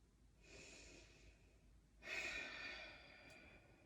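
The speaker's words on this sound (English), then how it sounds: "Take 1 more nice breath" Two slow, audible breaths during a power yoga practice, each a soft airy whoosh close to the mic, the second deeper and louder, with quiet room tone between them.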